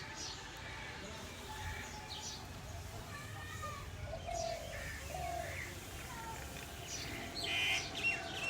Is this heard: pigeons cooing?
yes